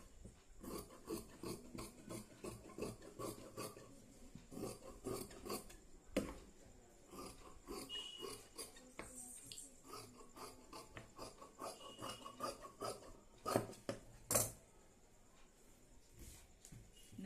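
Quiet, steady rasping snips of scissors cutting through blouse fabric on a table, close and faint, with a few louder rustles and sharp crisp cuts along the way.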